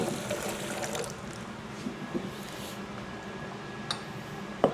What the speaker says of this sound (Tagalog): lagyan natin siya ng water para dito hugas na po siya